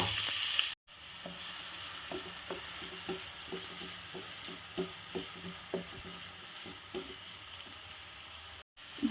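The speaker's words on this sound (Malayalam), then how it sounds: "മഷ്റൂം ഫ്രൈ ചെയ്ത പാനിൽ തന്നെ നമുക്ക് സവാളയൊന്ന് വഴറ്റിയെടുക്കാം." Chopped onion sautéing in the same pan used for frying mushrooms, a soft steady sizzle broken by regular light scraping strokes of stirring, close and fairly quiet with brief dropouts at the start and end.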